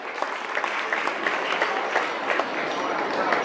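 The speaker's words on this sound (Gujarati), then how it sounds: "જોરદાર તાળીઓથી આપણે એને વધાવી લઈશું" Loud, sustained audience applause at a gathering welcoming participants, dense overlapping clapping with no pauses and a crowd murmur beneath.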